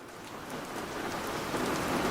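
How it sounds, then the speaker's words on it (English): Heavy tropical rain drums steadily on the corrugated metal roof of a clinic in Bahia Anasco, a dense, continuous hiss and patter that grows slightly louder throughout. "The tropical rain fell in great drenching sheets, hammering the corrugated roof of the clinic"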